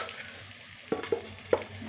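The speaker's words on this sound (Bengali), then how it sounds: "আমি ভাতের সঙ্গে সবজিটা একটু মিলিয়ে নিচ্ছি।" Cooked rice being stirred together with vegetables in a pan for mixed fried rice, a soft continuous scraping with three sharper clinks of the spatula on the pan near the end, close and fairly quiet.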